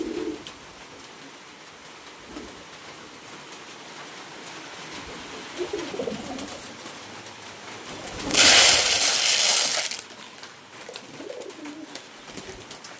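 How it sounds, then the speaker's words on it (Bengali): Pigeons coo softly as they scramble for scattered feed outdoors after rain, with a sudden loud burst of wing flapping partway through. "আপনারা দেখেন কবুতরগুলো খাদ্যর জন্য কিভাবে ছুটাছুটি করতেছে।"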